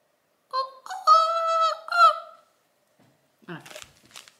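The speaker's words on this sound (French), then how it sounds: "On a des poules et des coqs juste à côté" Hens and roosters close by give a loud, drawn-out harmonic crowing call, followed after a short pause by a few rougher, shorter squawks.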